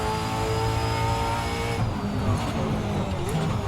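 A supercar engine drones loudly on a track, its tone climbing steadily under acceleration, then dropping sharply after a gear change before it pulls again, with a faint tyre squeal.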